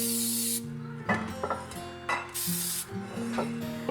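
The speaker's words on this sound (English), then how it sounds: "we're going to spray this 9x13 casserole dish" Cooking spray hissing from an aerosol can into a 9x13 casserole dish in a home kitchen, a few short bursts of spray over soft background music.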